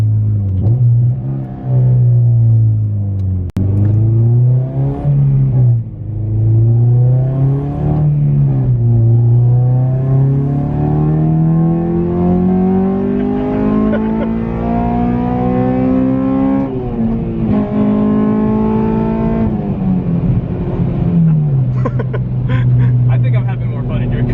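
A supercharged Honda Civic Si with a full race exhaust drones steadily from inside the car, its pitch climbing under acceleration and dipping as revs fall, with a faint metallic rattle from the exhaust. The sound is loud and continuous throughout.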